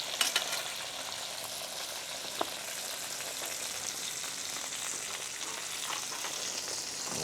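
A ribeye steak laid on a hot grill sizzles in a steady, moderately quiet hiss, with a couple of light clicks near the start and no voices.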